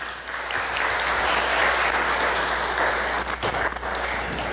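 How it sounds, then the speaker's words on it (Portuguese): A church congregation at a Sunday service with baptisms and professions of faith breaks into full, dense applause, a loud continuous roar of clapping that stays strong and then thins slightly near the end. "Uma salva de palmas."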